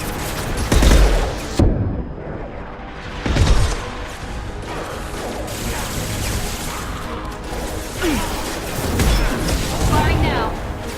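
Heavy impact-shot weapon fire in the video game Mass Effect 2, with a few loud booming blasts and crashes over dense combat noise and music.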